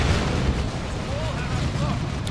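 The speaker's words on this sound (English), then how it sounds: "Cyclone Missile launcher shot." A Cyclone Missile launcher firing in the video game Dawn of War 2 gives a heavy, rumbling blast with a thick low-end roar that lasts the whole short moment, while voices talk over it.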